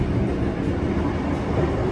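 A ScotRail train approaching Dumfries station rumbles steadily from on board, a dense, loud, low roll of wheels and carriage noise without a break.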